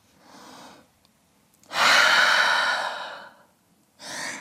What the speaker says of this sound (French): Grande respiration ici.